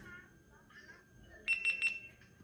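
A GoPro Hero 11 Black Creator Edition camera emits a quick series of three short, bright electronic beeps on power-up, clear and close over a quiet background with faint room tone.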